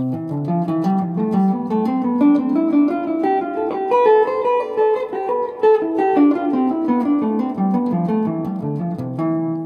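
A quick run of notes climbs and falls in steady stepwise patterns, a major scale played in thirds on a melodic instrument, fast and even without pause.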